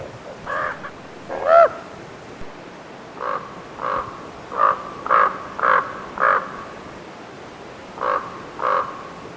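A raven in Yellowstone calling at a coyote, a series of about ten hoarse, croaking caws in irregular bursts, fairly close and loud, with no talk.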